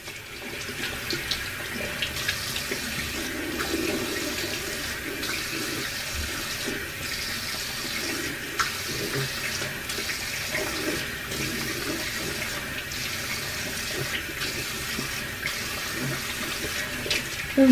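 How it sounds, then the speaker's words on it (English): Tap water runs steadily into a sink while a face is rinsed, a continuous close hiss and splash with small irregular splashes as hands scoop water, heard alone with no talking. "let me go ahead and get this rinsed off real quick"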